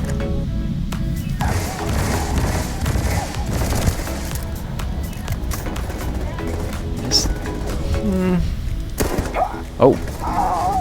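Pistol fire in the video game Starfield, a few scattered thumping shots in a dense game mix, with one sharp louder report near the end.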